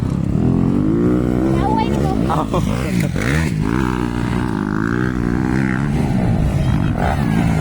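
A motocross motorcycle in the intermediate class race at the Libona MX track revs hard and steadily, its engine drone loud and close beneath a commentator's continuous talk.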